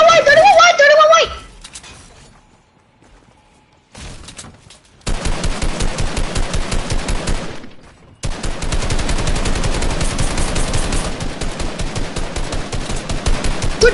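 Rapid automatic gunfire in a multiplayer video game, close and loud, with long sustained bursts after a brief shouted voice and a quiet gap.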